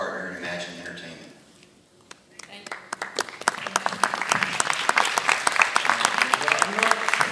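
Audience applause at a press conference for Ron Howard's film Pavarotti at the Rome Film Festival: after a murmur of voices, dense clapping swells in around the room and keeps going, loud and steady, to the end.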